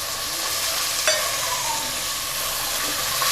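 Cut eggplant and drumstick sautéed in hot oil for a chickpea and dried-fish kuzhambu, a loud, steady sizzle with a faint scrape of stirring near the middle and no talking.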